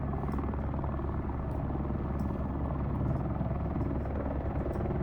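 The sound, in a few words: helicopter in a flight simulator video game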